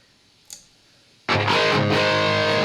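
An electric guitar played through a Super Lead amp model with the echo turned off, a brief pick click followed by a loud, sustained distorted chord that rings on alone.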